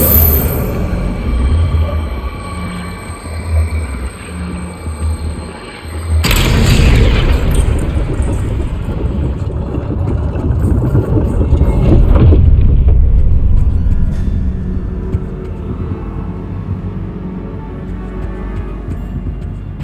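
A room rotating in Hogwarts Legacy gives a loud, deep, rumbling boom. It swells into a sustained heavy grinding roar that slowly fades, with no voices.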